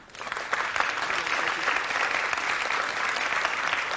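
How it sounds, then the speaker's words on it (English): A crowd claps steadily, loud and close, a dense continuous patter of applause that builds quickly and holds without pause. "Let's take for the last time the applause meter in."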